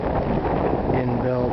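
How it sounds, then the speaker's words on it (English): Gusty wind on a breezy October day outside Belle Plaine, Saskatchewan, beside the CPR main line: a steady, full rushing roar buffets the microphone throughout, with a faint tonal hum or muffled voice emerging near the end. "it's a breezy day"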